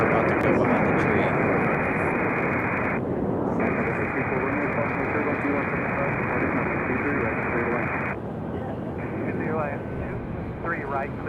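A FedEx Boeing 767 airliner at Raleigh-Durham International Airport gives a steady, loud broadband jet roar that holds for the whole stretch, with radio chatter and talk layered over it.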